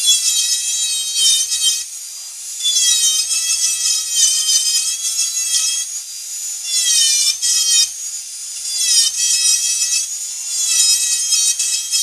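A Ram micro carver cuts into wood with a loud, high-pitched whine that rises and falls in pitch over repeated bursts of carving, close and alone with no talking.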